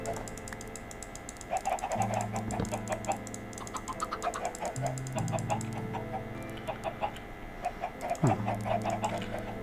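Chickens cluck repeatedly in short bursts in the video game Technomancer over a steady tonal background, mixed with rapid keyboard-like tapping.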